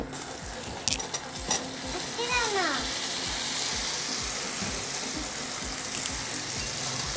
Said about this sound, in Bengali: এই রসের মধ্যে আমি ভেজে নেওয়া শুকনো কুলগুলো সব দিয়ে দিচ্ছি